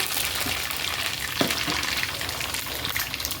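Mustard seeds, a tablespoon of them, frying in hot oil in a pan, giving a steady broadband sizzle with a few soft pops throughout, fairly close and alone.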